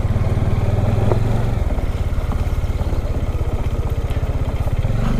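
A regular road motorcycle, not an off-road bike, riding over a rocky jungle track of round stones near a dam, its engine chugging close up in a steady rapid pulse with faint clatter over it and no talk.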